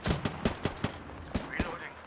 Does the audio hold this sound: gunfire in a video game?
yes